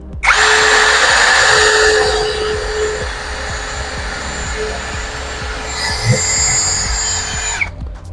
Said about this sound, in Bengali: আমরা এখানটাতে ড্রিল করব।